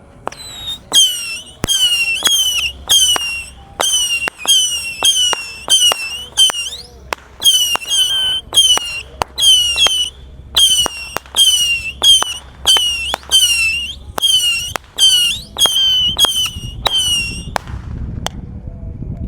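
Box rocket fireworks going off at night during Ramadan, a long run of rapid whistling launches and sharp cracking bursts, loud and close, firing in quick clusters with brief gaps for nearly twenty seconds.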